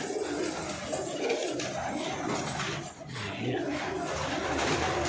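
Many pigeons, including Hyderabadi pigeons, coo continuously close by, a dense, throaty murmur of overlapping calls with faint wing flutters and background noise.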